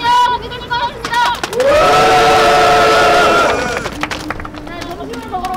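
A crowd at an outdoor press conference erupts in a loud, sustained shout that swells for about two seconds, with scattered clapping and voices before and after.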